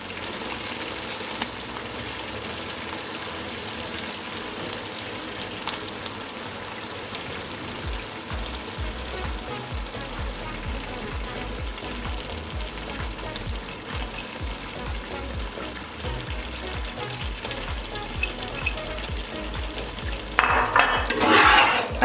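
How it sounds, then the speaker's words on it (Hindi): Khoya is stirred into carrot halwa in a pan off the heat, with continuous scraping and soft sticky squelching of a spoon through the thick mixture, close and steady, ending in a louder clatter of utensil on the pan. "अच्छे तरीके से इसे मिक्स कर लेंगे"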